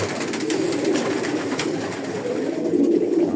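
Pigeons coo steadily in a loft where a breeding pair is being matched, a continuous low murmuring chorus of several birds close by with no talking over it.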